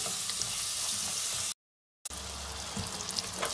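Masala with tomatoes sizzling in a pan, a loud, steady crackling hiss close by that cuts out briefly and then resumes.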